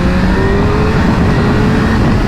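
The engine of a 2026 BMW M1000RR motorcycle revs loudly and close as the throttle opens, a sustained raspy roar whose pitch climbs steadily throughout.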